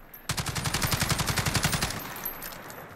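Fully automatic bursts from the STG77 (AUG A1) bullpup rifle in Call of Duty Modern Warfare, a rapid, evenly spaced string of about twenty loud shots lasting under two seconds, then a fading tail.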